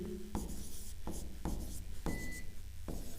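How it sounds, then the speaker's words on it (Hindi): Marker or chalk writing on a board during a physics lesson on mirror images, heard as repeated short scratchy strokes in a steady rhythm, close and moderately loud, with no speech. "तो हम लोग इसमें लिखेंगे प्रतिबिंब"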